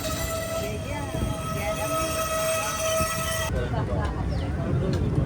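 A passenger train on the Pamban Bridge route near Pamban station pulls away, with steady loud rumble and rail tones throughout and a sharp shift partway as it gets moving; people talk in the background.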